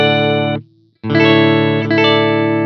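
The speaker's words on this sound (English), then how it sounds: "Here's the sterile sound of my Telecaster directly into the mixer." A clean Telecaster electric guitar, plugged straight into a mixer, rings out with a bright sustained chord, cuts to near silence for a moment, then strikes another that rings on, loud and alone.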